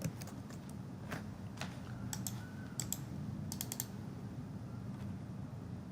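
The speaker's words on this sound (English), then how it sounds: "Now what you're going to do is you're going to type it in." Keys clicking on a computer keyboard while a command is entered in AutoCAD, sparse irregular taps in short bursts over a low steady room hum, close and fairly quiet with no talking.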